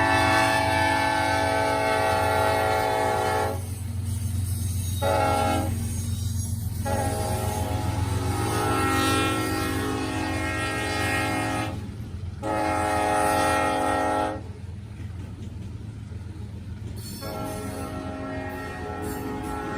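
Norfolk Southern freight train sounding its horn in repeated loud blasts, long and short, over a continuous rumble of the passing train, with brief gaps between the horn calls.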